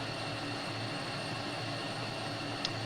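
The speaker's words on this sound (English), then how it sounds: "now putting back the throttle to idle. The RPM raising again." A jet engine in a flight simulator ramp start, a steady droning whine and rumble holding level under the throttle at idle, continuous and fairly close, with no talking.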